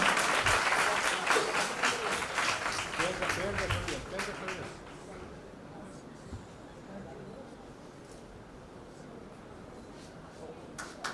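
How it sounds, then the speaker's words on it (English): An audience at an International Women's Day event applauds with a dense wash of clapping that swells briefly and then fades over several seconds, with voices murmuring underneath and a few scattered claps afterward. "I couldn't hear that applause. I couldn't hear the clap at all."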